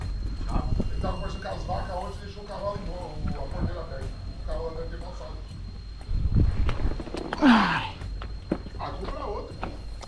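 Horse hooves clip-clop steadily nearby on the ground through much of the stretch, with a brief louder snort or whinny-like call near the end, while people talk over it.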